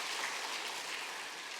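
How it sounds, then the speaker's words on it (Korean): A church congregation applauds during a Sunday daytime worship service, a faint, steady wash of clapping that stays even and distant throughout. "우리 하나님께 영광의 박수 한번 올립시다"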